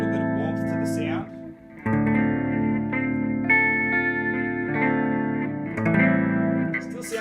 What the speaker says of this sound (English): So I'm going to go up to the tape echo